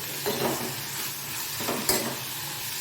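Chopped onion, tomato, coriander and curry leaves sauté in a hot pan for a Bengal gram dal chutney, a soft steady sizzle with a couple of brief scraping stirs and a light clink of a spoon against the pan.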